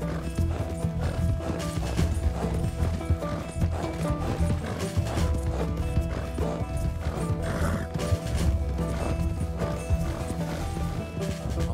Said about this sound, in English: Só o fôlego do cavalo, mano.